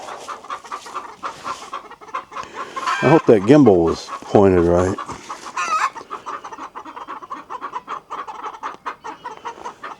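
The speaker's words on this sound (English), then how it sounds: "This breed and all chickens will make this warning call." Chickens give loud, repeated alarm calls, rising in a burst of harsh squawks near the middle, while a person talks briefly.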